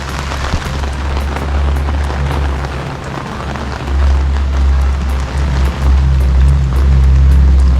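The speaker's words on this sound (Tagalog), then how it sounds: "Lakad-lakad na kami sa ulan." Constant broadband hiss of rain falling outdoors in a small town in Unisan, Quezon province, Philippines, growing slightly heavier partway through, with a low rumble beneath it. No speech.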